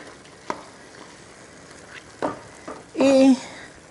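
Bacon sizzles in a pan while pasta with shrimp and bacon is being cooked. There is a steady frying hiss, broken by a few utensil knocks and scrapes, and a short voiced sound comes near the end.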